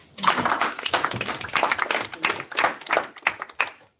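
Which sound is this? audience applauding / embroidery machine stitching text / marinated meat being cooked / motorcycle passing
audience applauding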